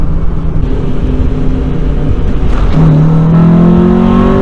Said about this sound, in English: VTech just kicked in